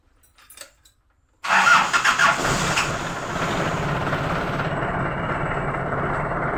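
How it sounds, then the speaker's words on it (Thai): A car engine cranks and catches after a jump-start from a motorcycle battery: a few faint clicks, a brief silence, then a sudden loud start with a quick rev that settles into a steady nearby idle. "มาดูผมสตาร์ทกันครับว่าจะติดจะใช้งานได้หรือเปล่าครับใช้แบตเตอรี่มอไซค์ในการพ่วง เพื่อสตาร์ทรถนะครับ"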